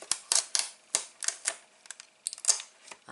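Craft tape pulled off and torn while making an origami 3D paper snowflake, a quick series of close, sharp crackling rips and snaps in irregular bursts, without speech.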